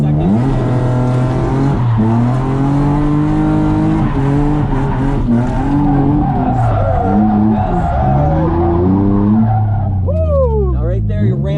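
At a drift event, a car slides through a lap with its engine revving hard and its tires squealing loudly. Pitch rises and falls through shifts and clutch kicks, and voices talk over it.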